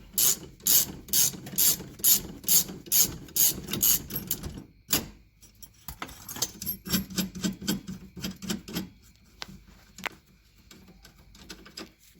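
A ratchet tool backs a steering wheel puller off the column of a 1972 Buick Skylark, making quick rhythmic clicking strokes in two runs separated by a short pause, close and fairly quiet.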